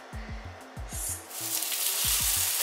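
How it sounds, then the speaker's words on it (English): Burrito frying in a warmed pan, a steady close sizzle that builds and grows brighter toward the end, with low thumps of handling and movement under it and no talk. "So I just fry it in my warmed"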